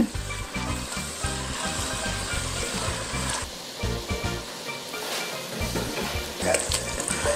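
Tomato paste simmers with oxtail and ginger in a pot, making a dense, continuous sizzle and bubbling with rhythmic stirring knocks throughout, loud and close.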